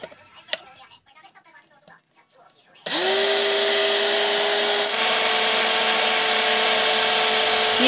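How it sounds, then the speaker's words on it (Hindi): An electric grinder whirs up to a loud, steady high-pitched drone as it mills dried corn kernels into corn flour, after a few quiet handling clicks and rustles. "इसको भी हम अब ग्राइंड कर लेंगे।"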